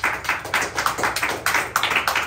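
A church congregation claps hands in quick, steady rhythm during a Tamil sermon, the claps loud and close, evenly spaced, with no talk over them.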